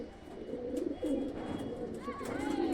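High flying pigeons coo softly at close range, low throaty murmurs blending into one another, with a few brief chirps and someone talking over them.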